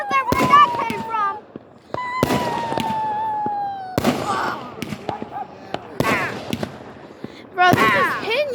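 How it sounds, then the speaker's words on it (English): Firework mortars burst in a string of sharp, loud booms about every two seconds, each followed by crackling and whistling trails, while excited voices shout nearby between the blasts. "Mortars! Mortars! Mortars!"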